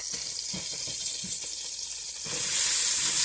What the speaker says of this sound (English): we're going to add in our onions and chopped garlic